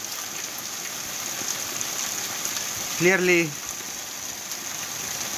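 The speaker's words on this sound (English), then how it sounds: "When the video went live, it started raining like crazy." Steady rain pours down as a constant broadband hiss, with a brief voice speaking partway through.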